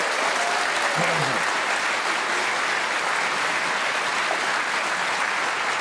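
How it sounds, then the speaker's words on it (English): An audience at a World Championship snooker match breaks into sustained, dense applause that holds steady and loud throughout, with a commentator's voice faintly underneath. "this will get a terrific round of applause"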